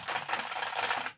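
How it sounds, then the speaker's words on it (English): Fingers clatter quickly over a white-backlit, fully mechanical typewriter-style keyboard, a steady run of close, crisp key clicks with no talking. "this is one of their typewriter style keyboards that they've sent me"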